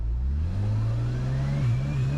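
A drag car engine held on its trans brake revs up, a loud, deep, rising drone with a wavering pitch that climbs steadily, close and continuous with no talking.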